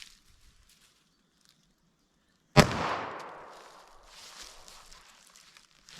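A single sharp .22 LR pistol shot with a CCI Uppercut hollow point fired into clear ballistic gel, one loud close crack with a decaying echo after a quiet lead-in.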